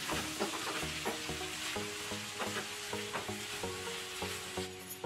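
Broad bean fry with grated coconut masala and a little turmeric is stirred in a pan, a steady sizzle broken by regular scraping strokes of the spoon, close and continuous with no voices.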